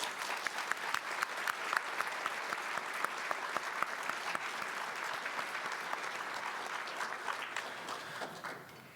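Audience applause for US Forces Korea soldiers and the Eighth Army commander at a Korea–US friendship year-end evening, a dense, sustained clapping crowd filling the room, steady throughout and tapering slightly at the end.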